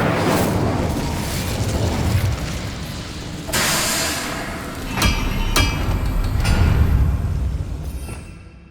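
Incendio fire spell cast in the Hogwarts Legacy video game, a loud roaring burst of flame with sharp crackling pops and booming impacts that swell and then fade out, no talk.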